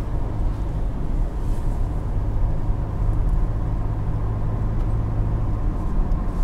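Exhaust of a 2019 Ford F-150 Raptor pickup under acceleration, a dense, steady low rumble holding loud and even from start to finish, with no speech.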